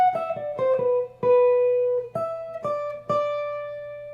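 Guitar playing the melodic opening phrase of a solo, single clean notes plucked one at a time with some held and sustained, close and alone.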